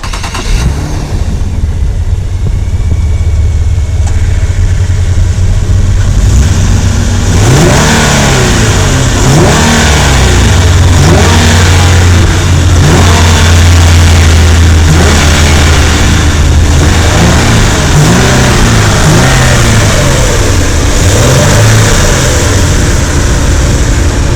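A 2013 Infiniti EX37 SUV engine revs repeatedly, loud and close, rising and falling in a series of throttle blips over a steady rumbling idle.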